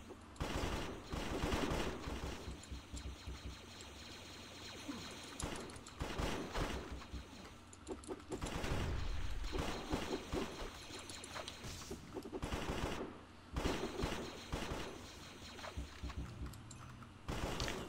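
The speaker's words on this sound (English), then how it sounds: "Oh my god, they're shooting me back and forth." Rapid bursts of automatic gunfire in the shooter game Smash Heroes, clattering back and forth in dense volleys with short breaks between them.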